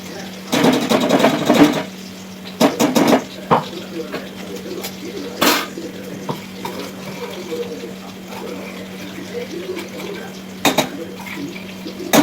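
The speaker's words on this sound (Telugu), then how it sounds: "ఈ వెల్లుల్లి కారం వేసేసుకొని వంకాయలకు మొత్తం పట్టి కొంచెం లైట్గా పొడి పొడి అయ్యే వరకు అయితే ఫ్రై చేసుకోవాలండి" Brinjal pieces stir-fried with garlic chilli powder in a pan, giving scraping clatters of a utensil against the pan in bursts, with a steady low hum underneath and quieter stretches between the louder stirring strokes.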